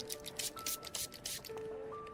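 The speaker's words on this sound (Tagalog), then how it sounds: "Pero sprayan ko po ulit sandali ng alcohol bago niya isuot." Alcohol sprayed from a spray bottle onto a motorcycle helmet: several quick hissing bursts in a row, close and fairly soft, with faint tones lingering underneath.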